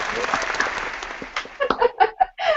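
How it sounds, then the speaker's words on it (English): A canned applause effect played over an online call, a thin clapping crowd for about a second and a half that gives way to a few short bursts of talk. "I'm trying to get you a round of applause, but I'm a bit slow with my Google effects here"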